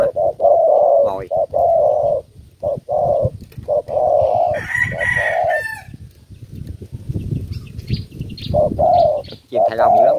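Caged birds calling loudly and close, a repeated rhythmic cooing series with rooster-like crowing bursts, continuous over about ten seconds with brief gaps between calls.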